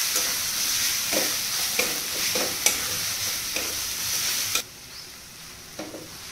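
Masala frying in a pan sizzles steadily while a spoon stirs and scrapes at intervals, close and clear, then the sizzle drops to a quieter hiss.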